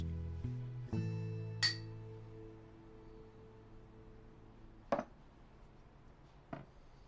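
Glasses clink in a toast during a dramatic scene: a sustained hum and ringing tones open, then a bright clink, followed later by two more sharp, close clinks separated by quiet room tone.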